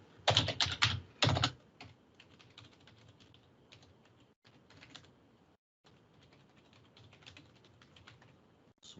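A computer keyboard is typed on, with a quick loud burst of keystrokes at the start, then softer scattered key taps and short pauses, close and without talk.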